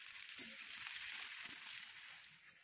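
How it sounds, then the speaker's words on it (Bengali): Chopped onion, ginger, chili and garlic fry in oil with crushed cardamom, cloves, cinnamon and bay leaf for green pea ghugni, a steady soft sizzle with a faint crackle, no voices. "প্রথমে তেলে থেতো করে রাখা এলাইচি, লবঙ্গ, দারচিনি এবং তেজপাতা দিয়ে পেঁয়াজ কুচি, আদা লঙ্কা কুচি, রসুন কুচি ছেড়ে দিলাম"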